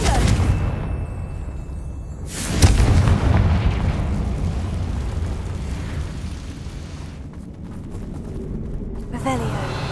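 A Confringo fire spell cast in Hogwarts Legacy, a sharp explosive burst near the start that decays into a rumbling roar, with a voice calling out just before and combat noise continuing afterward.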